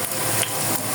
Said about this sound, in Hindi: प्याज को कलर देना, ज़्यादा नहीं कलर देंगे, बस सिर्फ सॉफ्ट ही करेंगे हम